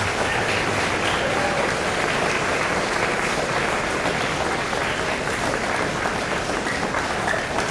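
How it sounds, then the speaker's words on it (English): A crowd gives steady, loud applause for the Kid Governor Cabinet finalists at a Nebraska Kid Governor announcement, dense continuous clapping filling the room without a break. "Could we please give them all a big round of applause?"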